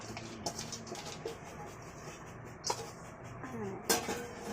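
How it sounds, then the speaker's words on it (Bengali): Chana dal going into a pressure cooker in a home kitchen: soft scattered clinks and taps of metal and grains, with a few sharper knocks, fairly quiet and close, no talking. "ডালটা ধুয়ে নিয়েছি, এখন প্রেসার কুকারে দিয়ে দিচ্ছি।"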